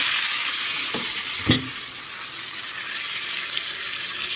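Tomato being sautéed in a pan for a dried anchovy (dilis) lunch, a steady broadband sizzle with one short clatter of stirring or scraping midway, close and continuous, no voices.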